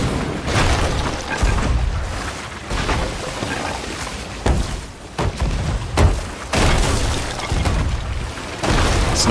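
Loud booming blasts go off repeatedly in quick succession, heavy video game cannon fire from a rowboat with broadband bursts and rumbling gaps between shots.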